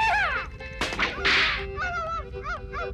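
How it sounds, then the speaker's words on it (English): A whip cracks, making a small sonic boom: one or two sharp, brief snaps surrounded by squawking, honking vocal sounds in a cartoon-like scene. "In fact, that's what a whip crack is."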